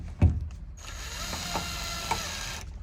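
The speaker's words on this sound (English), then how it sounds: "we're going to finish installing them with this driver that's equipped with a 4 inch-pound torque" Power driver fitted with a 4 inch-pound torque limiter installing Spanware tension anchor screws: one short knock, then a steady close motor whir with faint ticking that runs for about two seconds before stopping.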